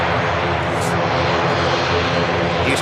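A large aircraft passes at Manchester Airport, a loud, steady broadband engine roar that stays close and constant throughout with no gaps.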